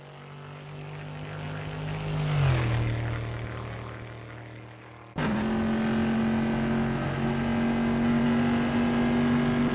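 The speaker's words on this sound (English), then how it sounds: "Jaeger Strensky is expertly commanding that car through Ravazza" A vintage pre-1973 Bizzarrini race car at Imola's Rivazza corner during qualifying, its engine rising to a peak as it passes, dropping away, then cutting to a loud, steady, close-up high-revving drone.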